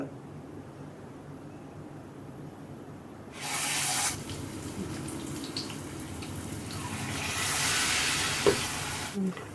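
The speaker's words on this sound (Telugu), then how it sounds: "ఇప్పుడు మనం ఆయిల్లో వేసేసుకుందాం" Battered egg 65 pieces slipped into hot oil, a quiet kitchen hum giving way to a sudden, steady close-up sizzle that continues with small pops and crackles, with another piece added near the end.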